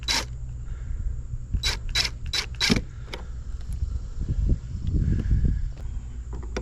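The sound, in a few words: impact driver driving long screw into motion light mount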